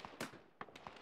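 Gunfire in the military shooter ARMA 3 during an infantry assault on Normandy: sharp, loud reports at about 0.2 and 0.6 seconds, with fainter cracks after them, nothing else heard.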